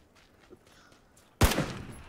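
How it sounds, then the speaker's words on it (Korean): Video game gunfire: after a quiet stretch, a sudden loud burst of shots erupts near the end and rings out in a short decaying volley. "옆에서 총소리"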